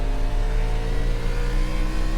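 A NASCAR race car in iRacing at Nashville Fairgrounds holds a loud, steady high-revving engine drone near the rev limiter, constant and close throughout.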